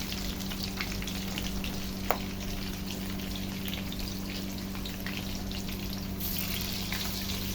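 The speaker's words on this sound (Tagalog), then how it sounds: "i-load na natin yung iba pa para mas mabilis tayo makapag-fry" Spare ribs frying in a pan give a steady, dense sizzle that holds evenly throughout, with one brief sharp tick partway and a slightly brighter hiss near the end; no voices.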